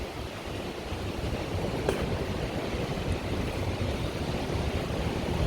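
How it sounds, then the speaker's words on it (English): Steady rushing water and engine rumble from a long-tail klong boat passing on a Bangkok canal, continuous and fairly loud, with wind noise and no voices. "Klong boat coming through again."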